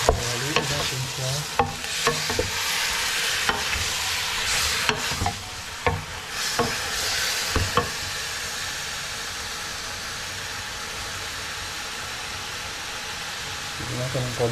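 Beef being stirred in a hot, sizzling pan, with a steady loud frying hiss and repeated scraping strokes of the spoon in the first half, while a person talks over the cooking.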